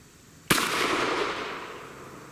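Single 10mm Auto pistol shot from a 5-inch barrel during chronograph testing, a sharp sudden crack followed by a fading decay, alone without talk.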